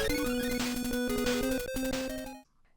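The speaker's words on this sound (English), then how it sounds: "when you get an important power-up in a Mega Man game," A Game Boy Mega Man 2 power-up jingle: a bright square-wave chiptune melody of stepping notes over a steady bass tone, playing about two and a half seconds, then cutting off cleanly.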